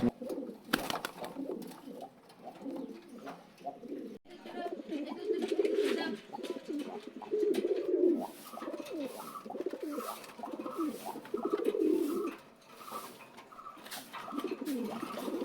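Pigeons coo repeatedly in a loft or market setting, with soft overlapping calls running throughout and a faint voice now and then in the background.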